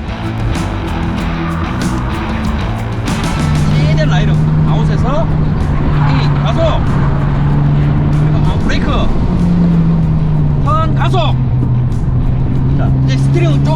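Hyundai N race car on a racetrack, its engine droning loud and steady with rising and falling pitch as it accelerates, while people talk over it throughout.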